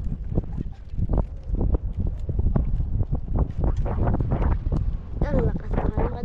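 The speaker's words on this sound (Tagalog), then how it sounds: "Ang lakas ng hangin" Strong wind at sea buffets the microphone on a small boat in a continuous loud roar. Gusts thump over it, and a voice speaks faintly beneath.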